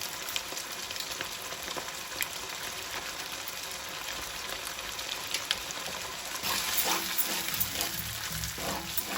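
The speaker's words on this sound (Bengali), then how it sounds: "আদা রসুনের কাঁচা গন্ধটা না যাওয়া পর্যন্ত আমি আদা রসুনটা পেঁয়াজের সাথে কষায় নিব।" Onions frying with ginger and garlic paste give a soft, continuous sizzle, fairly quiet and close, with a brief louder bubbling surge toward the end.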